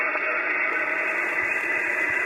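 Amateur radio audio from a remotely controlled Elecraft K3 transceiver, a steady band-limited hiss of receiver noise with faint crackles and no clear voice.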